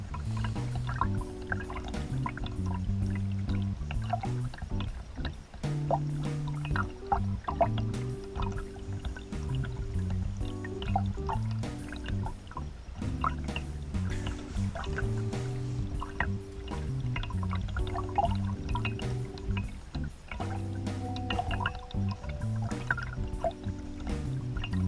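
A creek running through a city flows and trickles continuously, with small drips and gurgles over a steady watery wash, close and moderately loud, with no talking.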